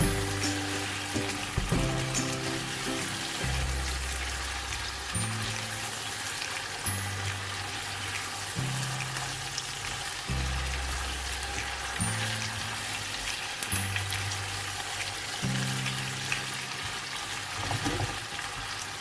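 Chicken fries with ginger garlic paste in a pan, giving a steady, hissing sizzle throughout, while a looping low melodic music track plays over it.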